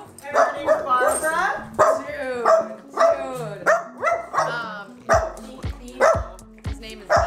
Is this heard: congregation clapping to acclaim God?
no